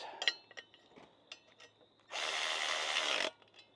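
During assembly of a Flyway 180 auto clay pigeon thrower, a nut is tightened down onto a washer. Scattered close clicks and taps come first, then a steady mechanical whirr of a powered tool for about a second, then a few more light clicks.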